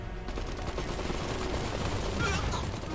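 Gunfire in the video game Iron Harvest on a battlefield, a dense, continuous wash of shots and explosions filling the whole stretch at steady loudness, with no clear single bursts standing out.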